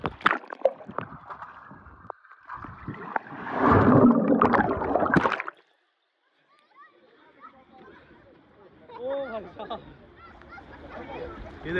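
Water churning and sloshing in a wave pool at Aqua Water Park in Kuwait, with loud rushing surges early and then quieter splashing, under someone talking and distant crowd chatter.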